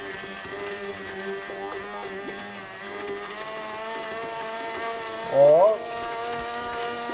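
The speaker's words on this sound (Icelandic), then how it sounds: "Hérna erum við að keyra saman essensin og eggjarauðurnar." An electric mixer whirs steadily, blending an essence reduction with egg yolks for béarnaise sauce. Its motor gives a buzzing tonal hum, and someone talks over it.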